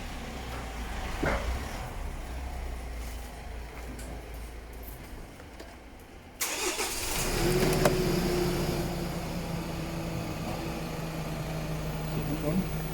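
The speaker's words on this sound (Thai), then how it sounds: "เทสกันหน่อยดีกว่าสตาร์ทรถดูว่าเป็นยังไงบ้าง" A Nissan Terra's engine cranks and catches about halfway through after a quieter stretch, then settles into a steady, close idle.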